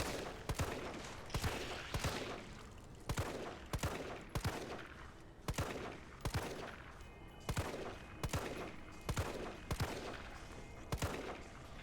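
Pistol gunfire in the Resident Evil 3 Remake video game, about a dozen sharp single shots fired at a steady, roughly one-second pace, fairly faint with no talk.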